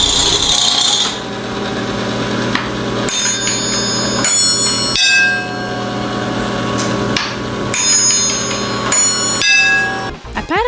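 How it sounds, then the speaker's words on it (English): A loud, elaborate doorbell rings out a long sequence of chiming, hammered metallic tones and bell strikes that layer and decay over a continuous ringing background, heard alone without talk. "I don't think anything else in this room could possibly top this doorbell."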